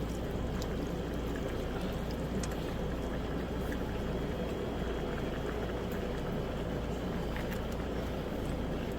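Chicken broth from a 16-ounce bottle pours into a cast iron pan of Italian sausage and bow tie pasta, a steady, soft hissing liquid rush with no voices.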